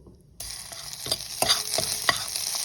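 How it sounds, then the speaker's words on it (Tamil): Ginger hits a hot pan and sizzles steadily, with a spatula scraping and stirring several times in an uneven rhythm, up close and fairly loud. "2 நிமிஷம் வதங்கிய பின்ன துரியின இஞ்சியை போட்டு வதக்கிங்கோ."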